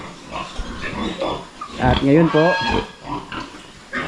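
Pigs in a pen on a provincial farm under an African swine fever lockdown, grunting close by at intervals while a person speaks over them.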